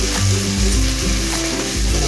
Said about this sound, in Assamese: এই আদা নহৰু পেষ্টখিনি দিও মই অকণমান ভাজিব লাগিব